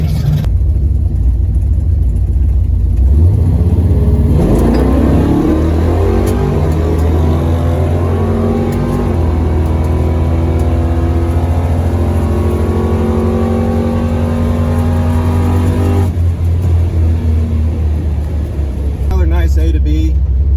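A drag race car launches on nitrous, the engine revving hard then pulling away with rising tone through the run, loud and sustained before dropping off near the end.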